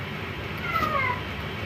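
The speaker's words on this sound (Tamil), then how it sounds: "ஏதோ பூனையோட சத்தம்லாம் கேட்கு." A cat meows in the video game Poppy Playtime, two thin, faint cries set against a steady background hum.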